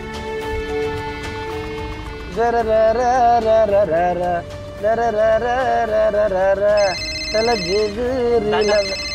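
A phone ringtone plays a repeating melodic tune in bursts over steady background music, loud and close.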